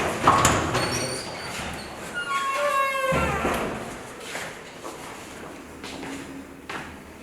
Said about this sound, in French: J'ouvre les portes.